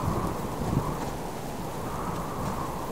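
A thunderstorm in the survival game Subsistence, with a steady wash of heavy rain and low rumbling thunder rolling underneath, continuous and fairly loud, with no voices.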